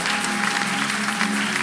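A church congregation claps together in sustained, dense applause for the King of Kings, a full steady wash of many hands filling the room for a short burst.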